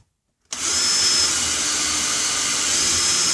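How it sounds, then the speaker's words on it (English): After a brief silence, a power drill starts up abruptly and keeps running at a steady high whine, loud and close. "let me position the drill."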